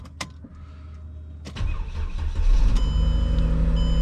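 A Toyota 4Runner engine with a fuel pump problem cranks and catches, then settles into a steady running rumble, loud and close, after a couple of clicks.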